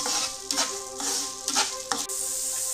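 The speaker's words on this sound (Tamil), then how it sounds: "ஸோ இந்த பொருட்கள் எல்லாமே நம்ம வந்து இங்கே வறுத்துக்கணும்" Spices roasting in oil in a pan for a Tamil-style chicken kulambu, a steady hiss of sizzling with several short scraping stirs and taps over it, fairly close.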